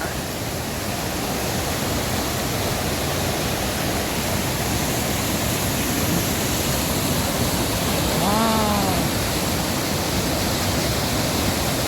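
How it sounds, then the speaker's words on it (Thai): Hua Chang waterfall in Pai, Thailand, roars as a constant loud broadband rush of falling water, unbroken throughout, with a faint bird call briefly rising above it near the end. "น้ำตกหัวช้างครับ"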